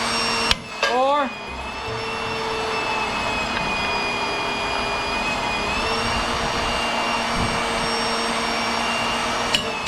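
A Sawzall reciprocating saw cuts in a steady, loud, buzzing whine that runs nearly unbroken after a short start, with voices heard briefly at the beginning.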